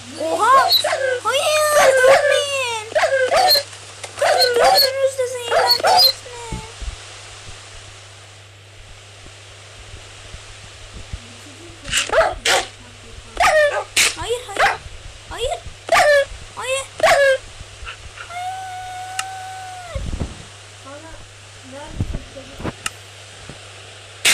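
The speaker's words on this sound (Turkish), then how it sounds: "dört tane köpek var burada" Four dogs bark, yip and whimper in energetic bursts, with quieter gaps between and a drawn-out whine late on, while a voice talks at times.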